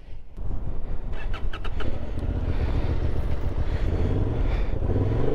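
A 2023 Honda Hornet 750 motorcycle engine runs steadily and loud as the rider pulls away, a constant close drone with a few brief mechanical clicks early on.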